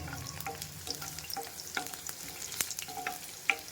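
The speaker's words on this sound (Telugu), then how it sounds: "వెల్లుల్లి కొద్దిగా శనగపప్పు వేసుకొని కొద్దిగా వేగాలండి" Garlic and chana dal frying with mustard seeds in hot oil in a pan while making a raw banana fry: a steady close sizzle with scattered pops and the scrape of stirring, no voices.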